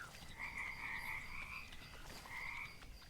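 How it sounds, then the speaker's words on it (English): Frogs in the video game Mudborne croak in a soft, steady, buzzing trill that fades briefly and then returns, faint and alone without speech. "you can ribbit with R, which will lure nearby frogs toward you"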